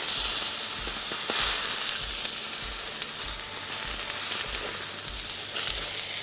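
Frozen Aldi smashed burger patties sizzle on a flat top at medium-high heat, a loud, continuous hiss and crackle close by with a faint rhythmic low thumping beneath.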